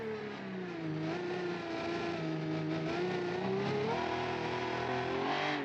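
Race car engines in a BeamNG AI race with 1980-era cars rev and drone continuously, several machines overlapping with shifting pitch as they accelerate, loud and steady throughout with no talk.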